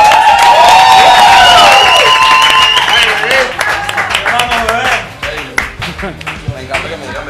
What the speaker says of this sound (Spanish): Un aplauso a José Rafael Guzmán.